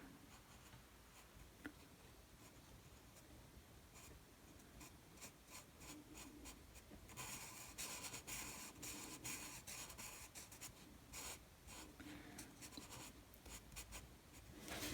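An alcohol marker squeaks and scratches steadily across paper in quick back-and-forth strokes, growing louder and denser partway through, with no talking.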